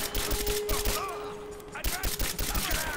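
Bursts of gunfire from the video game Rise of the Tomb Raider crackle in quick, uneven clusters against a steady hum, with voices speaking in the game's soundscape.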